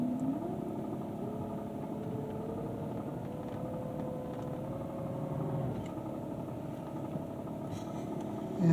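A 1988 EVcort electric car driving with its clutch ridden gives a steady low drone and a faint whining tone that holds throughout, quiet and continuous, with no voices.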